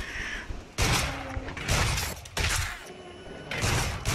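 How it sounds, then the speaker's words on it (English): Crows caw in the VR shooter Until Dawn: Rush of Blood on PSVR, their calls mixed into loud, repeated blasts of gunfire that come in several bursts. "Shoot the little birdies."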